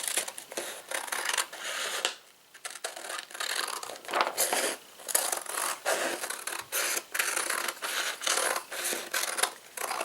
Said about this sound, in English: so now I'm just going to cut that.